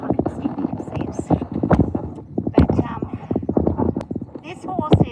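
A horse's hooves clip-clop in a rapid, uneven rhythm close by, with a whinny rising among the steps, while someone talks over the sound.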